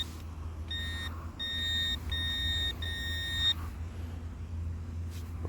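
A metal detector pinpointer held over a target in a UK field gives a run of four clear, high electronic beeps, steady and close, over a low background rumble.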